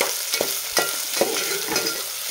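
Peanuts sautéed in oil with onion for Maharashtrian masala rice: a steady close sizzle broken by a few brisk spatula stirring strokes over a short stretch.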